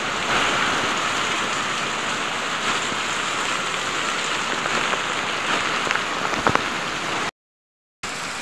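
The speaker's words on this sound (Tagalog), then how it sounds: "Ang lakas ng ulan." Heavy typhoon rain pours down in a dense, constant hiss, close and loud, with scattered drips, then a sudden brief dropout before it resumes.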